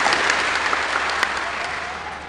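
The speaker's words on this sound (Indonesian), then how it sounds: "Boleh kita beri tepuk tangan untuk beliau." Congregation applauding in church on Christmas Eve, a dense continuous clapping from many hands that stays loud before easing slightly toward the end.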